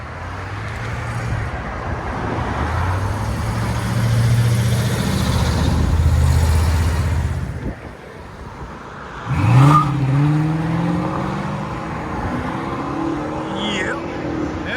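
A Chrysler 300C with a 5.7L HEMI V8 and a Flowmaster Super 10 exhaust gives a deep, steady engine rumble that swells, dips briefly, then returns with a sharp rev. Voices talk faintly at points.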